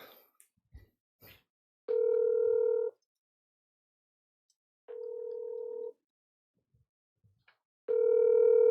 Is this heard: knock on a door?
no